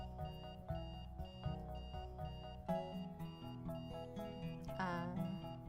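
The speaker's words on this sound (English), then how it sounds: "I woke that day to the screeching of my alarm clock in my ear" A shrill electronic alarm clock beeps repeatedly over game music, with a rising warble near the end, fairly quiet overall.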